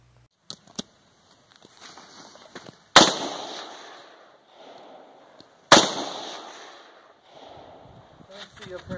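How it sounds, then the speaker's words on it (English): AR-15 rifle shots fired outdoors on a hillside on a rainy day, several sharp cracks with two loud nearby blasts that echo and decay, plus fainter distant pops in between. "Should we go shoot the gun?"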